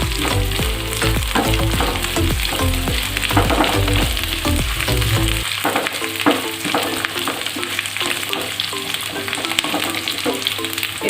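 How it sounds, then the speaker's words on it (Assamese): Onions sizzle in oil over a high flame while chilli paneer is cooked, a steady loud crackle with background music playing and occasional stirring clinks. "এইখিনি হাই ফ্লেমত ভাজি ল'ব লাগিব।"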